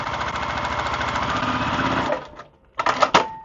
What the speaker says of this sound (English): And then I'm going to drop my presser foot and sew the rest of my 1/4 inch